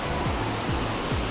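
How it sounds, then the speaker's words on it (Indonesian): A waterfall seen while hiking, heard as a loud, continuous broadband rush of falling water with no pauses. "Wow, air terjun"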